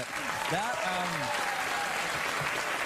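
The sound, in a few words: studio audience applause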